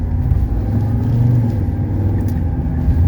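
A 1982 Mercedes 300SD accelerates on a test drive toward the Autobahn, its diesel engine droning loud and close with a steady low rumble and slight rises in pitch as it pulls through the gears, no voices.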